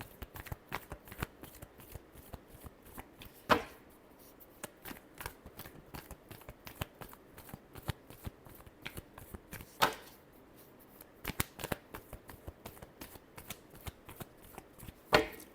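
A deck of tarot cards shuffled by hand over and over, quick riffling bursts in a steady rhythm with a few louder snaps, close up and with no talk.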